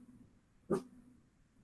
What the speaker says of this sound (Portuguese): mora em casa com cachorro, vai latir